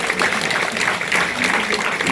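Audience applause at a campaign office opening ceremony in Incheon's Seo District, a steady, dense clapping that fills the room continuously without pause.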